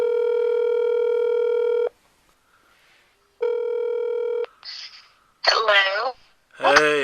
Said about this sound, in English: Let's see if we can get her on the phone right now.